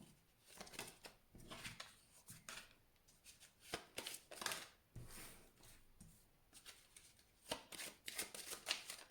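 Lenormand oracle cards being shuffled by hand, a close, quiet run of soft riffling and slapping bursts in an uneven rhythm, with no speech.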